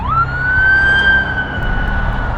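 A loud emergency siren sweeps upward and holds a piercing wail, close by over a low rumble of traffic.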